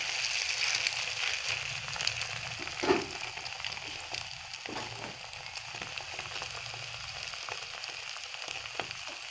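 A cheese and egg omelette fries in a pan, its second side cooking with a steady, soft sizzle and crackle close by, a few brief louder pops, and no talking.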